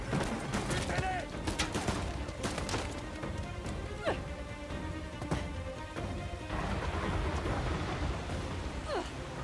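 Steady heavy downpour in a video game hisses throughout, with scattered sharp impacts and crashes cutting through the constant rain noise.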